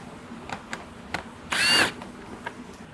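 A power drill backs screws out of a plastic wind guard on a Toyota Prado 250. It gives one short whir, close and loud, between faint clicks and handling noises.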